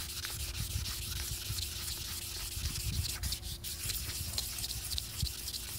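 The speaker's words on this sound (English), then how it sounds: "Did you guys hear the sandpaper get quieter all of a sudden?" Sandpaper rubs steadily back and forth over a plasti-dipped Buell XB9SX motorcycle tank cover, a continuous close, gritty scratching with no voices.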